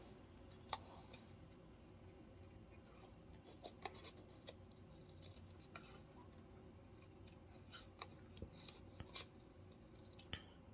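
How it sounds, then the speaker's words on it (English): Scissors snip around a stamped paper sun during card making, with scattered small crisp cuts and paper rustles. The cuts are irregular and fairly faint, and the room is otherwise quiet. "I'm just going to go ahead and fussy cut this sun out so that I can use it on my"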